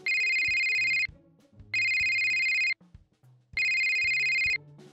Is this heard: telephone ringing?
yes